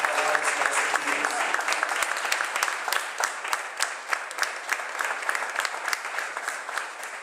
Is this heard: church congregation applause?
yes